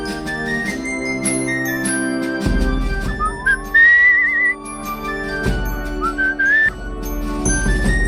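Whistled melodic phrases from the player character in the video game Where the Water Tastes Like Wine, sliding pitch lines drifting over a steady ambient music bed with soft chimes.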